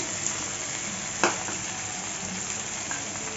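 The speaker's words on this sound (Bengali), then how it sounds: "আমার সব কিছু একটু ভাজা ভাজা হয়ে গেছে এখন আমি মশলা দিয়ে দিচ্ছি" Spices, including ground coriander, fry in a pan for dhaba-style chicken curry, giving a steady close sizzle with one sharp click partway through.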